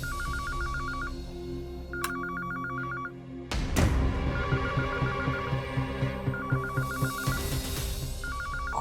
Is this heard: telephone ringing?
yes